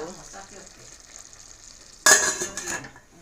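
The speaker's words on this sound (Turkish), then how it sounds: "Pilavımız pişiyor." Rice pilaf cooking in a pot at home, heard as a quiet bubbling simmer that suddenly bursts into a loud, bright sizzle and hiss partway through, then fades slightly.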